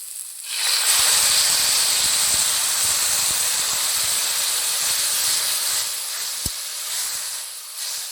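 Water poured into a hot pan of frying kachur loti with fish and jackfruit seeds bursts into a loud, sustained hiss of steam that holds steady for several seconds, close and alone.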